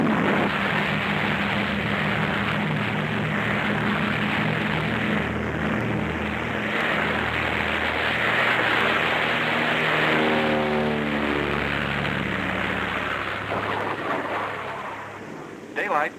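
Several propeller planes of a U.S. Navy Antarctic expedition taking off in darkness ahead of a storm, a loud, steady droning roar of engines filling the whole stretch, swelling slightly midway, with a narrator's voice over it.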